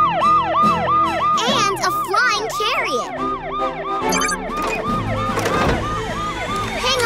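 Cartoon paramedic emergency vehicle siren, wailing loudly in a fast repeating up-and-down cycle throughout, with a voice talking over it and background music.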